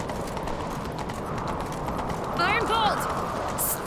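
Galloping horse hooves from The Witcher 3 game, heard as a continuous dense clip-clop rumble under game ambience, with a short tonal effect rising partway through.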